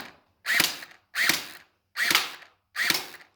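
An STD6 gel blaster fires four evenly spaced shots, each a loud close mechanical clack with a whirring rattle, separated by short silences.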